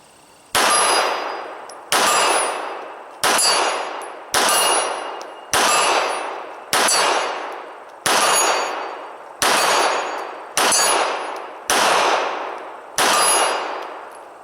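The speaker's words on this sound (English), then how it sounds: "we're going to shoot that out at 25 yards and see if we can" About ten rounds from a Glock 26 pistol fired at 25 yards each end in a ringing clang off a 12-inch steel plate, spaced evenly about a second apart, each ring fading before the next.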